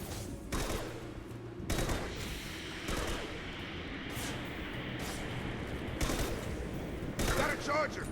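Rifle fire in a video game: repeated loud, sharp shots in spaced bursts across the clip over a steady background rumble, with game voices shouting in between.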